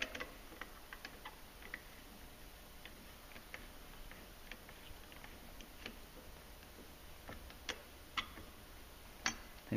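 Ratchet clicking faintly while an Arctic Cat 700 Wildcat Trail clutch bolt is tightened, a quiet, steady series of small ticks with a few sharper clicks near the end, no talking.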